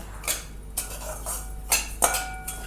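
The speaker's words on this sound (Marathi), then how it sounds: "त्याच्यासाठी मी हे 1 चमचा तुपामध्ये छान असं परतवून घेते" Semolina roasting in a spoonful of ghee in a pan, stirred with a metal spoon: a few sharp scraping clinks against the pan, spaced irregularly, close and moderately loud, with no talk.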